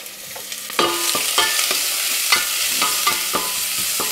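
Chopped root vegetables (carrot, leek, celery, onion and parsnip) sizzle steadily in a hot pan, with sharp scraping and stirring clatters punctuating the frying hiss, close and fairly loud.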